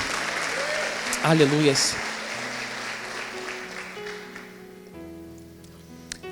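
Church congregation applauding during a Portuguese-language sermon, a dense wash of clapping that fades gradually over several seconds while a voice calls out briefly near the start.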